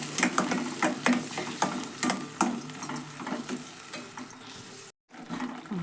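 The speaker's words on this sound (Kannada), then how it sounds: "ನೋಡ್ರಿ ಇದು ಎಣ್ಣೆ ಒಳಗೆ ಚೆಂದ ಫ್ರೈ ಆಗ್ಬೇಕ್ರಿ" Ground masala paste frying in hot oil, a dense crackling sizzle with frequent spoon stirs and scrapes, loud and close, cut by a momentary silence near the end.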